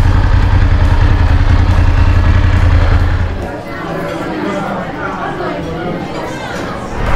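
Two motorcycles idle while being parked, a loud, close engine drone that cuts down partway through, followed by crowd chatter and clatter with voices speaking.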